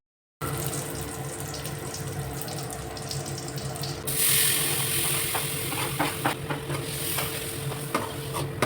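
Butter sizzling in a heated pan while a paneer roll is cooked at home: a steady frying hiss, near and constant, growing brighter and louder partway through, with a few small crackles and clinks.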